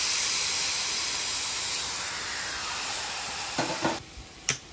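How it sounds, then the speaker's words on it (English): Pineapple sizzles in a touch of oil on a griddle, sugar side down, as a close, steady hiss that runs throughout, with a few brief scrapes or taps near the end. "Pineapple is cooking."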